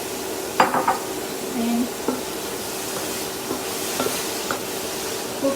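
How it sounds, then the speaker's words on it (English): Broccoli and garlic stir-fry in butter on a high flame, a steady sizzle broken by spoon clinks and scrapes against the pan, with a brief spoken word. "Our garlic is about to cook, so I'm going to add our broccoli in"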